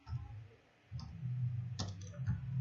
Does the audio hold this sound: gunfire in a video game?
no